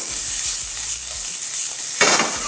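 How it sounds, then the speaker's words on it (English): Onions, sweet peppers and pimentos fry in a little oil in a pan with a steady, close hiss, and a brief louder rush of sizzle near the end as the pan is tossed. "a little bit of oil into a pan, onions and the sweet peppers and pimentos"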